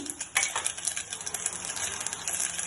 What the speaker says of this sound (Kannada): ಇವಾಗ ಸಾಸಿವೆ ಹಾಕೋತಾ ಇದ್ದೀನಿ ಸಾಕು ಚೆನ್ನಾಗಿ ಸಿಡಿಬೇಕು